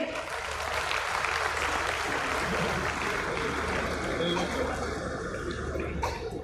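A crowd at a Dasara religious gathering applauds continuously, a dense, even wash of clapping that holds steady at full strength from start to finish.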